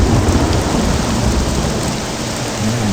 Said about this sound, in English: Oh, this is loud, the storm.